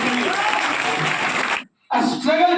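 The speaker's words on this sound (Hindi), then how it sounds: "एक बार जोरदार तालियां लगवाइए।" Loud applause from an audience at a student award ceremony, dense clapping that cuts off abruptly, followed after a brief silence by more clapping mixed with voices.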